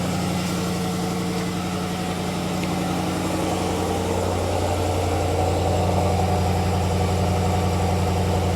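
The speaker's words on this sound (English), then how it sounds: "It's a throaty rumble like you want to hear from a V8" A 2024 Jaguar F-Pace SVR's supercharged V8 idles steadily with a throaty, even rumble, heard up close from outside the vehicle, continuous with no talking.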